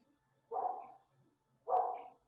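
A neighbour's small dog gives two short, muffled barks about a second apart, faint and coming from another room or next door through a wall, with quiet in between.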